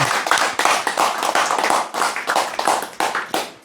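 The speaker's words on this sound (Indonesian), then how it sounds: "Tepuk tangan untuk Mr. TM." An audience at a religious lecture claps in a loose, fairly small burst of repeated hand claps, close and uneven in rhythm, with no talking over it.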